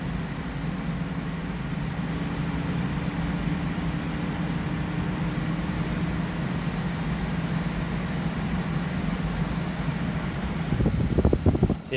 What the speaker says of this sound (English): Fan has reached full speed. Compressor ramping up.